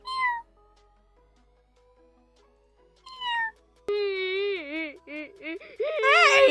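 A man imitates a cat with a few drawn-out, whiny meows, the first ones short and separated by silence, then longer wavering mews that grow louder toward the end.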